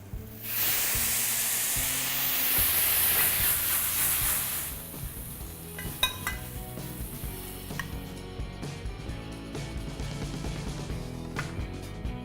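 Mushrooms sauteing in a pan, a loud hissing sizzle for the first few seconds that then drops to quieter crackles and clinks.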